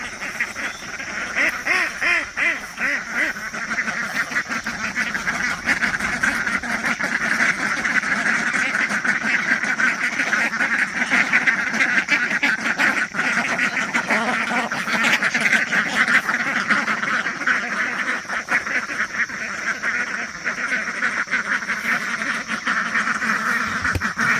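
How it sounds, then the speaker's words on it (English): A flock of ducks quacks continuously at close range, a dense overlapping chorus of nasal calls that keeps up steadily without pause for the whole stretch. "Good morning, duckies."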